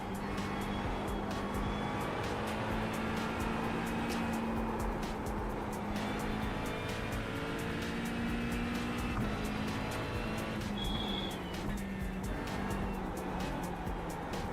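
A Porsche race car's engine drones steadily in a racing simulator, a continuous sustained tone shifting pitch as the car accelerates and brakes, with occasional tyre noise, fairly quiet and uninterrupted.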